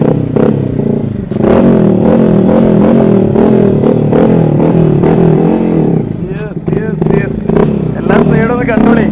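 A dual-exhaust motorcycle at a used bike lot runs loudly and continuously for the whole stretch, its rumbling engine mixed with voices talking over it.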